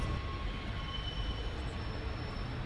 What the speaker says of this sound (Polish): Jest to tramwaj wyprodukowany w 1949 roku, także już ma 60 lat.